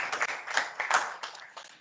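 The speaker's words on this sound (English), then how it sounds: "Another round of applause to Mr. Ozoni Ojealo." Audience applause for a speaker at an International Day for Countering Hate Speech event, a short burst of scattered clapping from a crowd, moderately loud and fading slightly toward the end.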